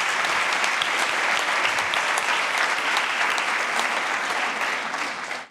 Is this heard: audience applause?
yes